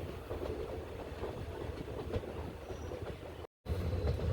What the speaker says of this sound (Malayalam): അപ്പോൾ ട്രെയിൻ അങ്ങനെ വലിയൊരു വളവെടുക്കുകയാണ്